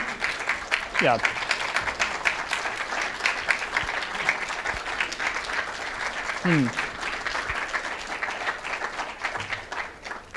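A conference audience at the HOPE 2018 hacker gathering applauds cryptographers on stage, a dense, sustained wash of clapping with a few voices and whoops cutting through.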